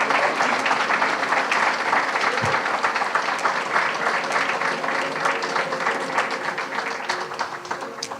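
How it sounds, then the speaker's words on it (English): A school poetry recitation audience applauds students at the end of a competition round, with dense, steady clapping holding at a strong level throughout and tapering slightly near the end, no voices standing out. "Give them a big round of applause."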